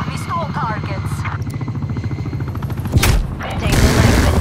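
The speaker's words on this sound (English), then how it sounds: "Hostile attack helicopter inbound." Attack helicopter in a combat video game thrums with rapid rotor pulses while gunfire and a boom burst around it, loud and dense, with game voices speaking over the action.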